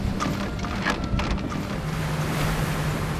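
A fishing boat on the West Sea off Korea pays out a long gizzard shad net, with steady rushing water, wind and engine rumble close by and a few faint clattering knocks, no voices.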